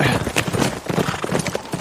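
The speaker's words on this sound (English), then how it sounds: "Tanner pushed his horse up against Alamo and reached down" Horse hooves clip-clop steadily up close in a Western audio drama set among Texas Rangers, the uneven beats carrying under a busy mix of other effects.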